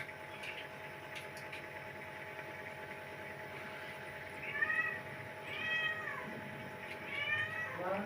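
A cat meows three times, short rising cries a second or so apart, over a low steady hum of machinery.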